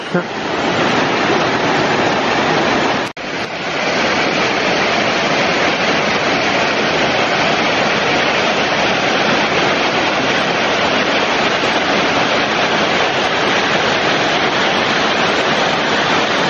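Loud, constant rushing water of a mountain stream in the Mont-Dore massif pours without pause, close by and dense, with a single sharp click early on.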